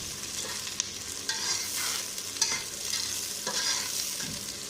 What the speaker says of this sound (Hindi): प्याज को हमने हल्का सा फ्राई करना है, बहुत ज़्यादा फ्राई नहीं करना है।